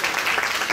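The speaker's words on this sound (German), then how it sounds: "Ein Applaus dafür." Audience applause after an interview about living in the Kesselhaus in Leverkusen: a brief, fairly loud wash of many hands clapping.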